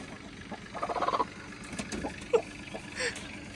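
A broody hen squawks in short, harsh bursts close by, with a few sharp calls standing out over a quiet background and people talking nearby.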